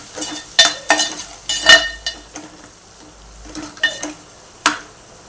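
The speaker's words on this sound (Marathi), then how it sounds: "मीठ हळद आणि चवीनुसार मीठ हेही परतून घेऊया मसाल्यामध्ये वाटणामध्ये" Masala paste with salt and turmeric stir-fried in a pan for an Agri-style prawn curry, a series of sharp metallic scrapes and clinks of a spoon against the pan over a soft low sizzle.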